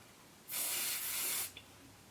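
A single steady spray from a mini Schwarzkopf hairspray can hisses for about a second onto an eyebrow spoolie, close and fairly loud, then cuts off, followed by a faint small click.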